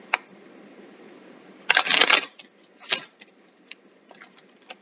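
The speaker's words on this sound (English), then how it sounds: "let's give it a good shuffle for you." Tarot cards are shuffled in short, crisp riffling bursts, close by and fairly quiet, with a few soft taps in between and no talking.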